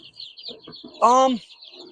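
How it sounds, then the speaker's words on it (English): Young gamefowl chicks cluck and chirp among a brood of about sixty, a few soft peeps followed by one loud, drawn-out call close by, with someone speaking faintly underneath. "Tienes 60 pollitos aquí en esto."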